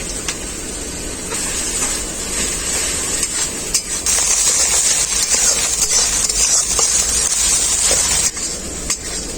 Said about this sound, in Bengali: আদা কাঁচা লঙ্কাটাও আমি খুব ভালো করে ভেজে নিলাম